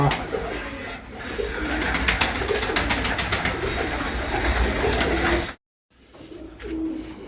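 Large pigeons coo repeatedly amid rustling and general bird chatter in a loft with chicks, then sound cuts out briefly before faint cooing resumes.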